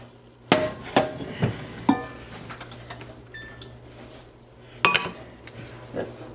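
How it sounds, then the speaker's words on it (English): A metal utensil scrapes and knocks against a pan bottom while deglazing seared meat with bone broth, a series of sharp clanks and scrapes spaced irregularly, close and fairly loud. "deglaze your pan that you seared the meat in with half your bone broth. And don't forget to scrape up all the crunchy goodness on the bottom."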